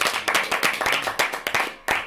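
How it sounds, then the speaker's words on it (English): Applause for a player at the end of a round of a group game, a burst of many hands clapping in a quick irregular patter across the whole stretch, moderately loud and close, with no talk over it. "Let's give some applause"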